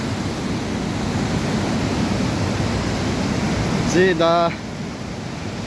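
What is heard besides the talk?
waterfall spray in Geiranger, Norway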